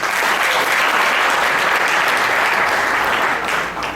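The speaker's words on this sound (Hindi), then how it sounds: "एक बार हमारे जिम्मेदार और प्रबुद्ध श्रोताओं के लिए जोरदार तालियां।" Loud, dense applause from a seated audience at a Hindi poetry recitation event. The clapping is close and sustained for about four seconds, then eases off slightly at the end.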